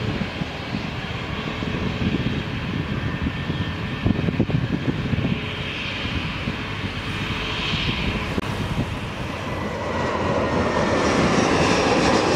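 A jet airliner rolling for takeoff at Lisbon Airport, a loud, continuous engine roar close by that swells and grows fuller toward the end, with no voices.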